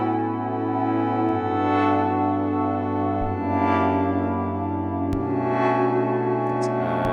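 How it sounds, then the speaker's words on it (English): Sustained synthesized tones with reverb added, several long notes layered and shifting, a wash of echo trailing behind each change, steady and fairly loud with occasional sharp clicks. "So I'm just adding reverb here."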